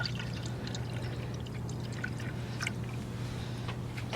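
Coolant pours steadily into a 2001 Honda Civic's cooling system with a soft gurgle and a low background hum, no talking.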